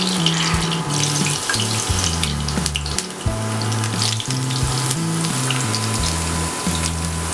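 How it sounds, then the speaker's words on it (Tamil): Potato chips fry in hot oil, a dense continuous crackling sizzle running steadily underneath loud background music, with no talking. "இதை வந்து ஆயிலில் போட்டு நம்ம பொரிச்சு எடுத்துக்கலாம்."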